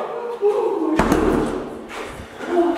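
A cupboard door in an abandoned care home is slammed shut with one sharp, loud thud near the middle, amid agitated talking from people nearby.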